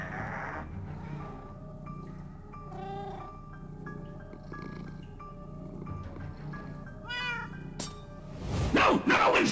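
Winslow the cat in Minecraft: Story Mode meows and yowls in several drawn-out cries over a low background score, ending in a louder rustling clatter.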